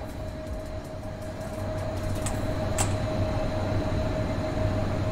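An Intercity train in the MaSzyna train simulator rumbles into a station platform, a steady low rolling drone with a faint sustained whine and a couple of brief metallic squeals, growing slightly louder as it nears.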